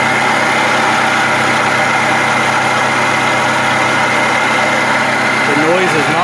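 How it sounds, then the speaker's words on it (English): A Toyota RAV4 2.5L four-cylinder engine idles with a failing water pump, a steady loud mechanical whine and hum droning throughout without a break. "The noise is not coming from the motor itself, but coming from down here. Underneath your alternator is your water pump."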